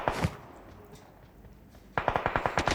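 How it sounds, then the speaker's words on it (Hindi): Automatic gunfire in the PUBG video game on the Livik map: a single loud shot, a quiet pause, then a rapid burst of about nine evenly spaced shots, fairly close. "फिर मिड स्टेन की तरफ से मेरे को फायरिंग का साउंड आता है"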